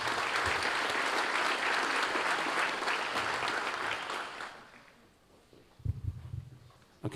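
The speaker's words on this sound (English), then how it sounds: "Somebody else who needs a rousing round of applause because of all the hard work she put into this" Audience applause at a public safety awards ceremony honoring a chamber of commerce organizer, steady and moderately loud for about four seconds, then fading out into scattered low thumps and murmurs.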